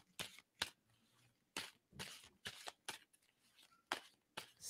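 A deck of tarot cards is shuffled by hand in sharp, quick riffling bursts separated by short pauses, close-up and fairly quiet, with no talking.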